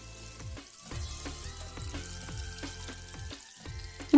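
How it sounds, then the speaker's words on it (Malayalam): Butter and oil sizzle steadily in a pan on the stove, ready for grilling chicken for chicken mandi, a continuous close frying hiss with small crackles and stirring scrapes, no voices. "അതിനായിട്ട് നമുക്കൊരു പാൻ വെച്ചിട്ട് അപ്പോൾ അതിലേക്ക് കുറച്ച് ബട്ടറും കുറച്ച് ഓയിലും ഞാൻ ചേർത്തിട്ടുണ്ട്."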